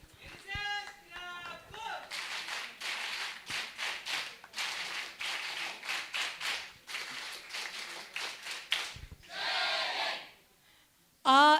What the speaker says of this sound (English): So huge round of applause for all the participants